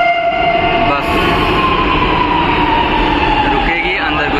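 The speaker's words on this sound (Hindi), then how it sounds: "यहाँ पे देख सकते हैं अपनी मेट्रो आ चुकी है" A metro train rumbles and hisses steadily with a sustained tonal whine, close by, as it pulls into a station in Lucknow, India; a brief voice is heard.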